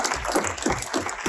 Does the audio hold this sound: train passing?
no